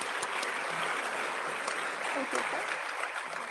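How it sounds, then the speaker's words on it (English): Steady audience applause fills a United Nations conference hall as someone speaker is welcomed to the stage, a dense even wash of many hands at moderate, slightly distant volume. "big warm applause to Asal Latifi and welcome up here"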